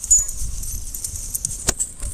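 A pet dog out on a walk gives a few short, close yips and whimpers over outdoor background noise, with one sharper sound near the end.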